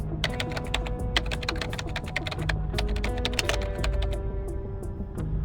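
A character in the game Reverse: 1999 types rapidly on a computer keyboard, dense clattering keystrokes running continuously over a low background hum, with no speech.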